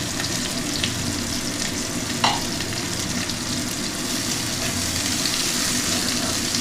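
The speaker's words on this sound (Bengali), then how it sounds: "গরম হয়ে গেছে, তেলের মধ্যে পেঁয়াজ দিয়ে দিলাম।" Chopped onion hits hot oil in a pan with a loud, continuous sizzle that holds steady throughout, broken once by a brief clink of a utensil.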